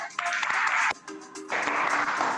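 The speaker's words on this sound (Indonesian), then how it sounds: "Oke, tepuk tangan dulu dong buat kita semua." A high school class claps in a short burst, breaks off briefly, then starts again, with dense hand claps close by in a classroom.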